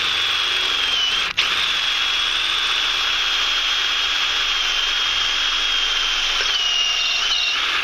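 Power drill with a 13/64 bit boring out the rotor retaining screws on a 2006 Honda Pilot, a loud continuous high-pitched whine held steady for several seconds with a brief click early on.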